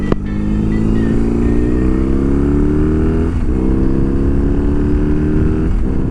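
BMW R 18 Classic big boxer motorcycle cruising on open road, a loud steady engine drone rising smoothly through the gears with brief dips at shifts, no talk.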